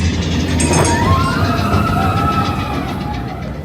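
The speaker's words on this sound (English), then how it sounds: "There goes the train for Big Thunder Mountain." A Big Thunder Mountain ride train at Disneyland passes with a steady rumble and a long metallic squeal of wheels that rises and then fades, under the noise of the crowded park.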